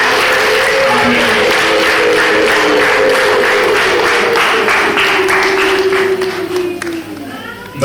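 A church congregation gives a sustained burst of dense applause, loud and continuous, with a voice or musical tone carrying over it before the clapping thins out near the end.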